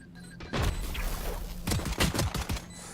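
A grenade goes off in the middle of a gunfight in the video game Valorant, with dense overlapping bursts, thumps and rapid gunfire cracks all packed into a few seconds, loud and busy.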